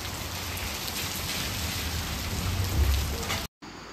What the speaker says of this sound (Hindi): और बारिश तो यहाँ भी बहुत ज़्यादा है।